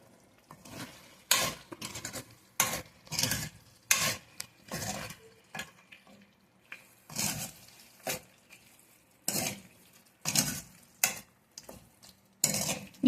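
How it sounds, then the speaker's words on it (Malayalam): Chicken perattu stirred with a spoon in a pan after coconut oil is added, giving repeated loud metallic scrapes and clanks in irregular bursts over a soft sizzle, close up. "എന്നിട്ട് നമുക്ക് ഒന്നുകൂടെ നന്നായി മിക്സ് ചെയ്തെടുക്കാം."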